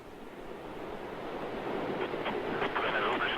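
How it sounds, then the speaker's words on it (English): The Soyuz TMA-17M rocket engines give a steady, broad roar at launch, building slightly in loudness, heard at a distance with faint crackle. "Liftoff of the Soyuz TMA-17M on its way to catch up with the International Space"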